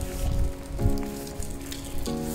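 Steady rain falls outdoors on a walking route in Galicia, Spain, a dense broadband hiss with patter on surfaces under sustained tonal hum, continuous and fairly close for the whole stretch with no talking.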